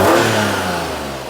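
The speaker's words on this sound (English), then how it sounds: "We better just rev her up a bit" A Daihatsu Charade L251 engine revs up briefly during an alternator belt replacement, a loud close mid-pitched rising roar that settles back within about a second.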